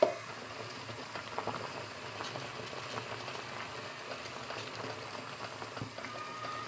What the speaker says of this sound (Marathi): दोन मिनिटं छान उकळी आलेली आहे